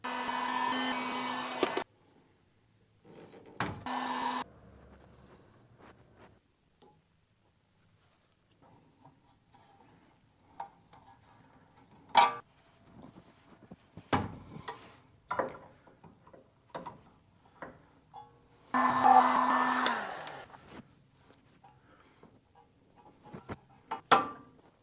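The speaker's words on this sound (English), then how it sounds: "I'll have to heat that heat shrink so it can hold its shape and actually stay in there" A heat gun shrinks marine heat shrink tubing during brake work on a MK2 Volkswagen. Two short blowing bursts, at the start and near the end, stand apart from sparse ticks and clicks in a quiet room.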